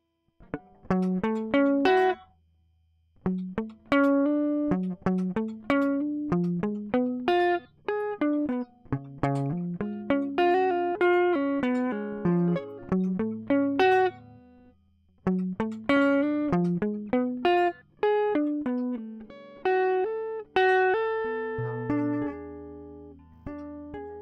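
A melodic, fast-picked electric guitar riff plays alone, with crisp plucked notes in quick runs, pausing briefly before repeating the phrase.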